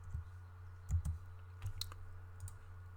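Typing on a computer keyboard while entering text into an Excel budget spreadsheet, a handful of close, quiet key clicks in short irregular bursts over a steady low hum.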